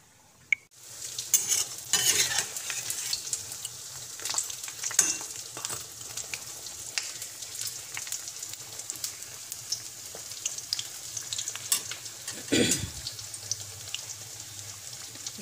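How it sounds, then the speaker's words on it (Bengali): Crisp pumpkin-flower fritters coated with sago powder fry in hot oil with a continuous close crackling sizzle, punctuated by frequent sharp clinks and scrapes from a spoon stirring in the pan. "এটাকে আমি এখন ভাজছি"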